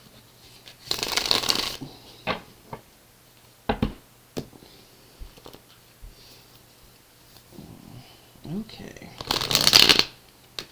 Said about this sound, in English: Just 2 shuffles left to go here.